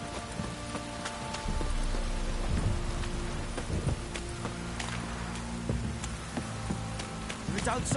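Steady rain falls in the Witcher 3 video game, a dense, loud hiss of rain on surfaces with soft rumbles and scattered drips throughout, without speech.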